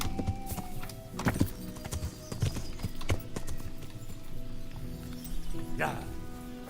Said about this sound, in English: now we have the horse noises again